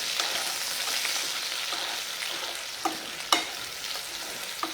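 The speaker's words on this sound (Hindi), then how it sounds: "यहाँ हमारा कटहल अच्छे से फ्राई हो जाए" Jackfruit (kathal) pieces frying in a pan for kathal masala, a steady close sizzle with a few sharp scrapes and clinks of a spoon stirring through, no voices.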